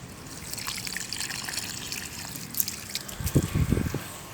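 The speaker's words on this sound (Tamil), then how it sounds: "இந்தமாரி ஃபுல்லாக இந்தமாரி தண்ணி அடிச்சிடணும்." Water splashing and trickling onto plants in a terrace garden, soft and steady, with a brief louder gush and some handling noise near the end.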